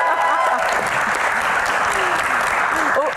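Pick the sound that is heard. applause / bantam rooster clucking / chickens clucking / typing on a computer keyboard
applause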